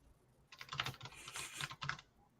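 Rapid clatter of typing on a computer keyboard, a dense run of close key taps in bursts lasting about two seconds, with no voices over it.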